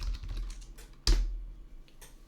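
Fingers tap on a computer keyboard, soft clicking keystrokes with one sharper press midway, close and clear in a quiet room.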